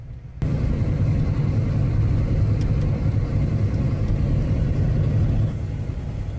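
A John Deere tractor rolls along a road at walking pace, towing a Salford tillage implement, with a steady loud low rumble of engine and running gear that starts abruptly and carries on with a few faint rattles.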